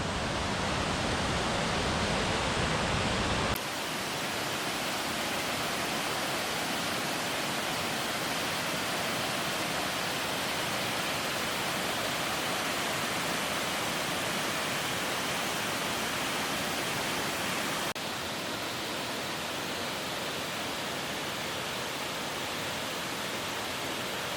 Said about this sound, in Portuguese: Cascata do Moinho, a segunda cascata aqui do Parque do Caracol